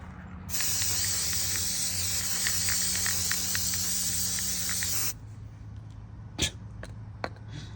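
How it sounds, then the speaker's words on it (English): Copper gasket spray hisses from an aerosol can onto a truck's exhaust manifold gaskets in one steady, close burst of about four and a half seconds, then cuts off, followed by a couple of sharp clicks and faint workshop noise. "I don't know if you guys are spraying copper on your gaskets"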